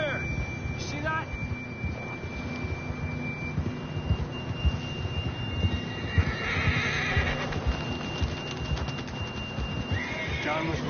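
Horses in a Red Dead Redemption 2 scene neigh and whinny over steady clip-clopping hooves, with a continuous ambient bed of game sound and a high tone underneath throughout.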